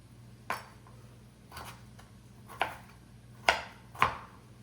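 A knife roughly chops soup vegetables on a board, giving five distinct close chops at uneven intervals over a quiet background.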